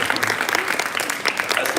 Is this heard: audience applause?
yes